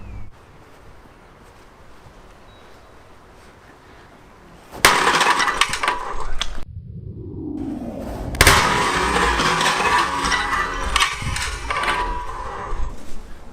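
Thor's hammer smashing four stacked tiles: a loud sudden crash of breaking ceramic, a brief pause, then a second heavy smash with clattering shards that keeps going. There is a low background hum and no voice.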